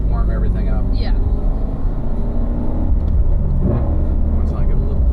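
A 2015 Corvette engine rumbles loud and near as the car accelerates, with a downshift blip, and a voice talks over the steady drone.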